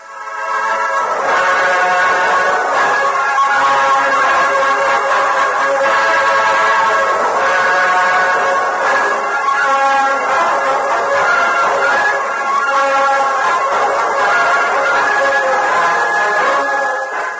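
In an old Lone Ranger radio drama, a train rumbles steadily as it pulls away into the night, with sustained whistle-like tones over a loud, continuous roar.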